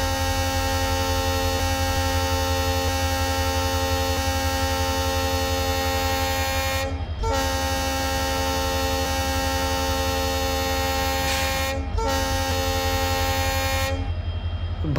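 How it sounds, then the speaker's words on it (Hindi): An Indian Railways locomotive horn on the 12517 Guwahati Garib Rath Express in the MSTS train simulator game at NJP station blares loud and sustained, broken by two short gaps before a final stop, with no talking. "ये मॉन्स्टर का हॉर्न है ना गाइस, एकदम कान फाड़ने वाला साउंड है ये"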